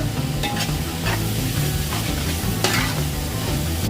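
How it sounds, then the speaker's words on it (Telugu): Carrot, spinach and fenugreek leaves fry in a pan for a leafy pulao, with a dense steady sizzle and spatula scraping and stirring strokes, close and loud, with no talking. "బాగా వేగిపోయింది కదండి చక్కగా బగ్గిపోయినాయి శుభ్రంగా క్యారెట్ పాలకూర మెంతాకు బాగా వేగిపోయినాయండి"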